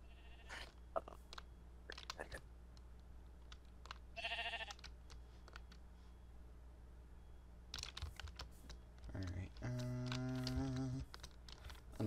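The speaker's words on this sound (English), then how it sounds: "there seems to be like four times more sheep here" Sheep bleat in a Minecraft world among many sheep, a few short game-style bleats standing out over steady rapid keyboard typing and clicking, with no talk.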